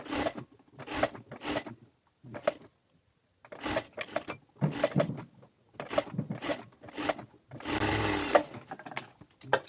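A sewing machine stitching a kameez runs in short repeated bursts, each a fast mechanical rattle separated by brief pauses, with one longer run near the end; close and clear.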